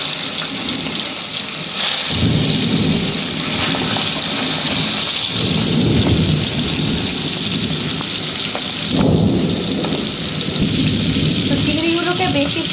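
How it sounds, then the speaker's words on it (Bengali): Prawns frying in hot white oil in a heated pan: a loud, dense, continuous sizzle that holds steady throughout, with a few low bumps and swells partway through. "তেল গরম হয়ে গেছে, এবার চিংড়ি মাছগুলো ভেজে নেব।"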